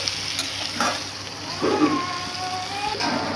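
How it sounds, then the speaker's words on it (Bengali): Starfruit pieces fry with onions in oil while being stirred, producing a continuous sizzle broken by scraping strokes and bursts of louder crackle close by. "ভালো করে নেড়ে চেড়ে দিই।"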